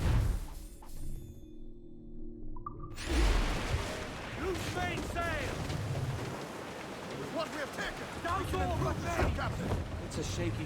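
Sailing ship at sea in Assassin's Creed 4: Black Flag, with steady wash of water and wind filling the clip after a brief quieter opening, plus scattered creaks and splashes, and voices talking over it.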